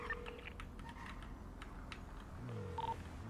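Faint phone call tones in a GTA V roleplay game, short beeps at the start and again near the end over a busy low background, with no talk.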